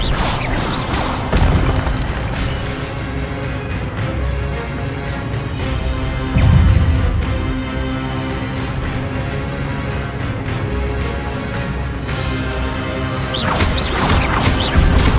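Spells such as Expelliarmus and Incendio fire in a Hogwarts video game, with repeated loud bursts, crashes and swishing whooshes in quick succession over a constant game background.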